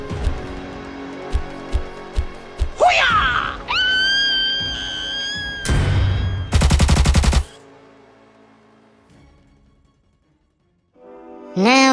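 A toy gun aimed at a toy gorilla in a forest-animals farm diorama fires a loud string of bursts, with electronic effect tones, a screech and a rapid machine-gun volley.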